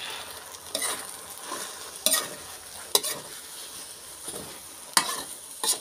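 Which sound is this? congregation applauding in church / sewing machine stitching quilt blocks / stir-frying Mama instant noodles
stir-frying Mama instant noodles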